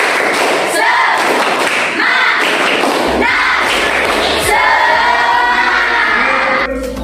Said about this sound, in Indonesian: Bersama ya, tepuk semangat.